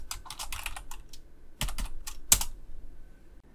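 Computer keyboard typing while tidying code, with irregular bursts of close key clicks separated by short pauses, heard alone.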